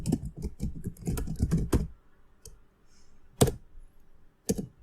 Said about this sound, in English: Press tab key to change the name.